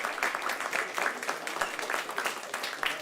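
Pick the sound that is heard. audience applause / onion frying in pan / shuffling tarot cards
audience applause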